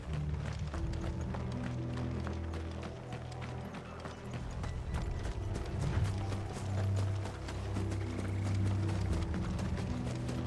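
Steady clip-clop of horse hooves at a running pace in Final Fantasy XVI, with rumbling rolling noise and a faint whinny blended in, continuous throughout.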